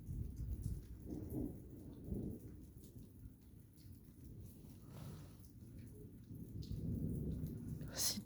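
A moderate to strong thunderstorm over Capestang in March brings steady rain and low rolling rumbles of thunder at a distance, with faint voices talking in the background.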